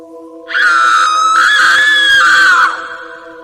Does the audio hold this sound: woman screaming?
yes